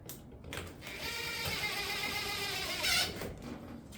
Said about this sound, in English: we're going to stitch screw it to the panel using our 3/4 inch stitch screw